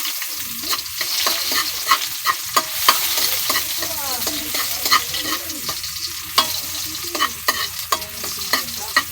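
Onions sautéing in a pan, steady hiss of frying with repeated scraping stirs of a utensil, close and clear with no talking.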